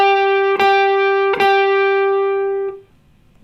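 A single electric guitar note bent up and held dead straight with no vibrato. Two quick picked re-attacks punctuate the sustained tone before it cuts off into near-silence, solo and clean.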